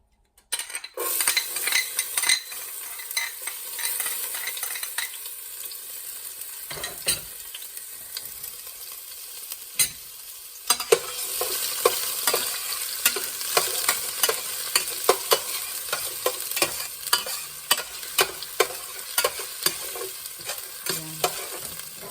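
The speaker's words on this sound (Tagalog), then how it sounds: "Kaya gigisa-gisahin ko na lang para maluto pa agad." Ingredients for chicken kaldereta sautéing in a hot pan, with a loud continuous sizzle and frequent scraping and clinking of a utensil against the pan throughout, no one talking.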